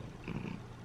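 A pet cat named Stram purrs briefly while lying on its owner, a short, close, low rumbling burst with no voices.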